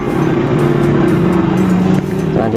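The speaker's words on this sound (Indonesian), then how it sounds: "Selanjutnya kita nyalakan mesin kompresor ini." A freezer box compressor motor runs steadily with a continuous, loud mechanical hum and drone, holding an even level throughout with a slight dip near the end.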